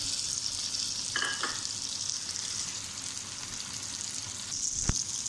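Green chillies slit down the middle go into chicken and okra frying in a pan, producing a steady, close hiss of sizzling oil with a few brief clatters of stirring.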